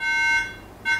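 An iMac with a hardware failure gives two sharp, loud electronic beeps close by, a long tone and then a shorter one after a brief gap.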